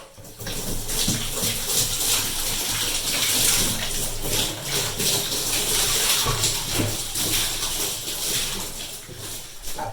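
Water sprays and splashes steadily inside a château water tank as its interior is rinsed out, a loud continuous rush with no talking.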